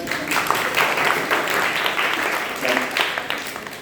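Audience clapping at a group class on the first day of a camp, a dense steady round of applause for several seconds, with some voices mixed in.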